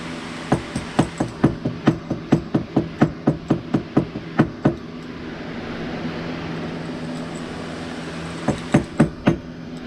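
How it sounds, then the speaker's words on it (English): A small ball peen hammer taps repeatedly on a bent part of a HMS Bounty ship model, a fast, even run of about twenty sharp close strikes, a pause, then a few more taps. "we'll take our little ball peen hammer."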